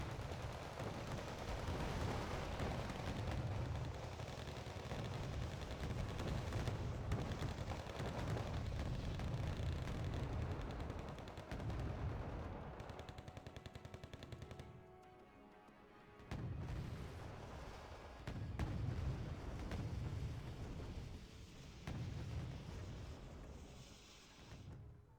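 Bombs and artillery pounding an infantry formation in the war strategy game Wargame Red Dragon: a dense, continuous barrage of heavy booms and crackling gunfire, loud and sustained, with a brief lull in the middle before it resumes.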